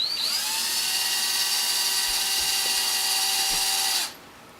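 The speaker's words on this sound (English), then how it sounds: "Are you drilling a hole in her head?" A high-pitched electric drill whines steadily for about four seconds, loud and close, then cuts off abruptly.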